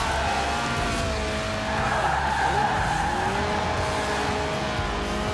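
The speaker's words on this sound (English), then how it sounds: "The honourable art of drifting." A light racing car in Forza Horizon 4, under 700 kilos with a 190-horsepower 1.8-litre engine revving to 8,000 RPM, drifts with a loud, continuous tire squeal over a droning engine note.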